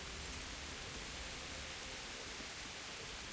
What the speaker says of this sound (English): It's raining and I'm in the forest.